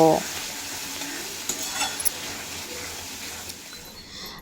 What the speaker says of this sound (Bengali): জিরের গুঁড়ো আর সামান্য কাশ্মীরি লঙ্কার গুঁড়ো দিয়ে এই আলুর সাথেই মশলা খুব ভালোভাবে কষিয়ে নেব